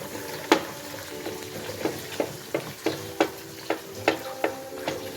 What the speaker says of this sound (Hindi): हल्का सा मैं इसको फ्राई कर रही हूँ